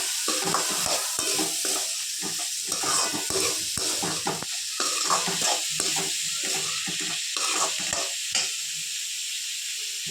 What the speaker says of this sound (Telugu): ఇప్పుడు అప్పుడప్పుడు ఇలాగా కలుపుకోవాలండి, లేదంటే అడుగంటుకుపోతుంది.